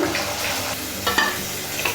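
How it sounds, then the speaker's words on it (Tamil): Tamarind extract goes into a simmering kachai dry fish gravy (karuvadu kulambu) and is stirred, giving a continuous close scraping and bubbling sizzle with a few sharper spoon knocks, no voices. "புளிக்கரைச்சல் சேர்த்துட்டு நல்லா கலந்துடலாம்."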